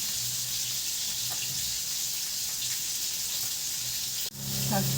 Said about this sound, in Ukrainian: Засмажую котлети